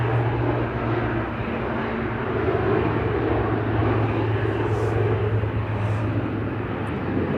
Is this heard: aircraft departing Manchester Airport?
yes